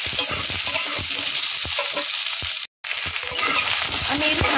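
Spinach, beans and eggplant stirred and fried in a pan for spinach ghonto, a continuous bright sizzle with repeated scraping strokes of a spatula, briefly cut out partway through.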